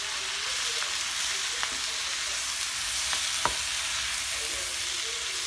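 Spiced sweet potatoes and carrots with salt and pepper being stirred in a hot pan, a steady close sizzle broken by a few light clicks of the utensil, no talking.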